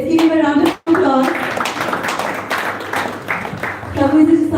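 An audience claps after a speaker is introduced at a devotional evening gathering, a steady crowd applause that runs throughout. Sung or chanted voices rise over it at the start and end, with a brief cut in between.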